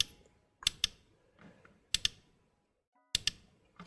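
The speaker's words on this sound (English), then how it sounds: "Sorry if my clicking noise are annoying." Close, crisp clicks from a computer mouse or keyboard come in sharp paired bursts separated by brief pauses, faint room noise between them and no speech.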